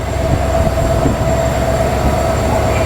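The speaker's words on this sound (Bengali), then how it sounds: "এই যে সামনে যেটা দেখতে পাচ্ছেন এটা হচ্ছে আমাদের আজকের ট্রেনের লোকো লোকোমোটিভ নাম্বার তিন হাজার ষোলো" The Mohanagar Express, locomotive 3016, on a rainy, windy night on the Dhaka to Chattogram route gives a loud, steady rail rumble with a sustained tonal hum, and no one speaks.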